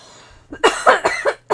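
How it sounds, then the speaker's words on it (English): A person coughs close up in a quick burst of about four or five harsh coughs, followed by a brief pause and one more. "Let me finish coughing"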